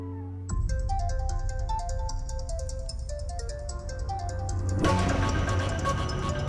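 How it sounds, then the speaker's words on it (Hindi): A phone ringtone plays a repeating electronic melody, steady and fairly loud, then becomes denser and brighter near the end with no talking. "प्लीज फोन उठाओ नकुल, प्लीज।"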